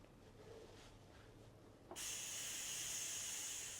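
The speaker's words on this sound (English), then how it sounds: "So let me release the steam and I'll show you what's inside." Steam bursts from an Instant Pot's pressure release valve while braising a leg of lamb, starting abruptly after a quiet stretch and continuing as a loud, steady, broadband hiss.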